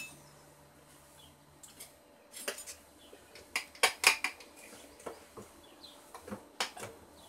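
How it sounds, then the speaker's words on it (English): A fork scrapes the flesh of cooked spaghetti squash, giving a string of sharp, close scratching and clinking strokes in irregular bursts against a quiet kitchen background. "And a fork to scrape."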